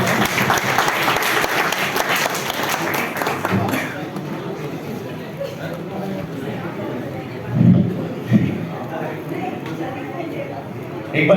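Applause fills the hall at a stage event, a dense roll of clapping that fades after a few seconds, followed by room noise with a couple of thumps and a voice.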